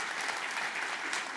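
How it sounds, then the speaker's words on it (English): A keynote audience at a London tech conference breaks into a short burst of dense, continuous clapping, steady and moderately loud throughout. "Come on, applause."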